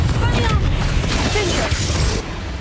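A Confringo spell blast in Hogwarts Legacy erupts as a loud, dense explosive rumble with crackling debris, heard in a cave and continuing for a couple of seconds before easing.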